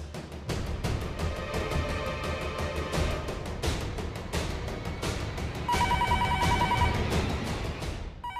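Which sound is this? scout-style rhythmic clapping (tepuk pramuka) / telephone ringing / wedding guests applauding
telephone ringing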